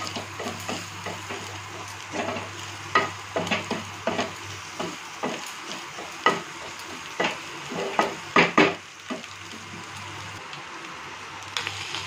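Chow mein stir-fried with chili powder in a pan, with repeated scraping and tossing strokes in an irregular rhythm over a steady sizzle, close and clear.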